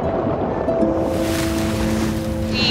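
Steady wind and ocean wash roar across the open deck of a deep-sea research ship at sea, a constant close rush of air and waves with no talking.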